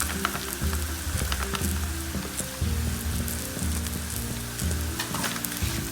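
Ground sambar powder sizzles as it is fried in oil, a steady crackling hiss with stirring scrapes, close and continuous with no talking.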